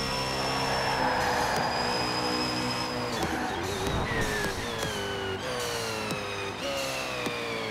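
A Koenigsegg Agera RS in Forza Horizon 4 accelerates hard, its engine note climbing through repeated rising sweeps broken by quick gear shifts, loud and continuous with no talking.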